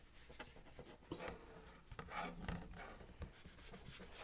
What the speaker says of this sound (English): I'm going to rub a little bit into the corners.